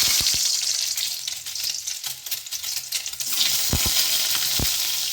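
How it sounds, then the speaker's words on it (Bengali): Eggs sizzle loudly in hot oil in a pan with a continuous crackling hiss, broken by a few sharp low thumps and knocks of a utensil against the pan. "এবার ডিমগুলো আস্তে আস্তে ছেড়ে দেবো। ডিমগুলো ভেজে নিচ্ছে।"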